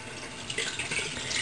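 Running water rinses shampoo out of hair, a soft steady hiss of flowing water with slight splashy fluctuations, close and fairly quiet.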